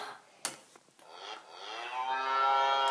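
A person imitates a cow's moo, one long, rising and swelling vocal call held for about two seconds after a short click and breath, close to the listener.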